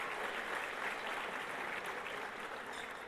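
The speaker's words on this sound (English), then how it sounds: "Please give yourselves a round of applause." High school students at a conference applaud together, a steady, dense wash of clapping that fills the room evenly throughout, fading only slightly toward the end.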